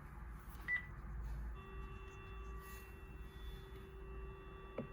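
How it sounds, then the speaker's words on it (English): Panasonic KX-TG222B DECT 6.0 cordless phone giving a steady dial tone, faint and continuous under a low background hum, with a brief beep near the start. "So here's the dial tone."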